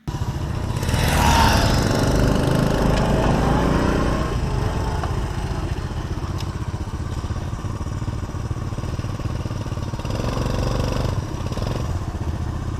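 A Honda CT110 postie motorcycle with a pod carburettor and pod air cleaner runs steadily, its loud continuous engine drone holding nearly constant throughout with a brief rise near the start.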